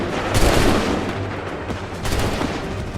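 Musket volley gunfire from Assassin's Creed 3 gives a dense, loud burst of overlapping shots that rolls into a sustained rumble, with smaller reports scattered through the battle noise.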